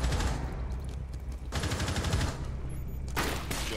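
Rapid bursts of video game gunfire on the Coastline map crackle in dense volleys, with a loud stretch at the start, another in the middle and a final burst near the end.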